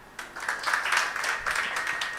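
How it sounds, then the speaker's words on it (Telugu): Audience clapping at a Telugu religious gathering, a short burst of scattered hand claps from a small crowd, close and moderately loud. "ఇప్పుడు మీకోసం మీరు కొట్టుకోవాలి చప్పట్లు"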